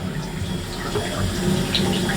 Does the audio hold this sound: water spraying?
yes